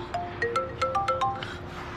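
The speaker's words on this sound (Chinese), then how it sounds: "黄峰来电话了，怎么办？" A mobile phone ringtone for an incoming call plays alone indoors, a bright repeating electronic melody of short rising and falling notes that starts up and fades toward the end.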